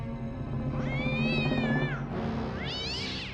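Outside the Vatican a black cat meows twice, a long rising and falling cry followed by a shorter one, close and clear over a low steady hum.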